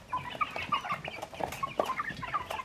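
A flock of about seventeen or eighteen hens, with a rooster among them, clucks and murmurs continuously in a cluttered, close chorus.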